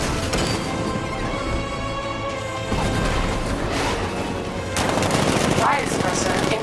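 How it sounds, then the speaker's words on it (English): Tank cannon fire in the Batman Arkham Knight video game, heard as a dense, continuous barrage of loud blasts and crashes that swells in intensity, with no speech over it. "60mm cannon operational."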